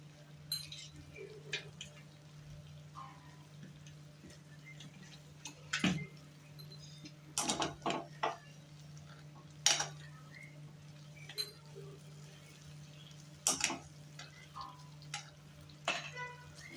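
Chocolate cake batter with butter being stirred in a bowl over a low gas flame for a no-oven cake, giving sparse, light clinks and taps of a utensil against the bowl over a steady low hum.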